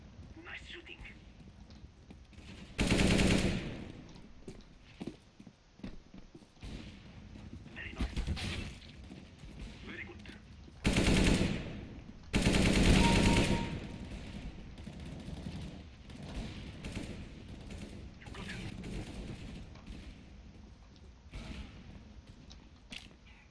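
AK rifle fire in a video game comes in a few loud broadband bursts, the first around three seconds in and two more close together later, while a voice talks throughout.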